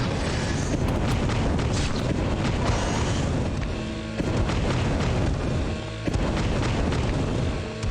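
A video game flamethrower keeps up a continuous roaring whoosh with dull booming bursts, loud and dense across the whole stretch.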